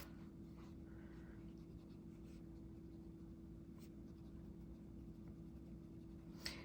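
A Sheaffer Triumph 727 fountain pen with a 14K nib writes on a dot-grid paper pad: faint, soft scratching strokes in short bursts over a quiet room hum, with a small tap near the end.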